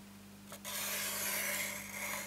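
Card stock is cut for a pop-up slider card in a paper craft demonstration, giving a soft, steady scraping cut that lasts under two seconds over a faint constant hum.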